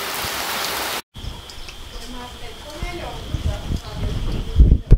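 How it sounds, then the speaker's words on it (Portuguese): Heavy rain falling on a farm property, a steady wash of water and patter throughout, with a brief dropout near the start and heavier close impacts toward the end; someone talks over it. "tá chovendo muito"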